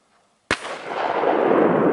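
A single sharp gunshot cracks out during a spring duck hunt, followed by a loud, sustained rushing wash of noise that lasts to the end, with no talking.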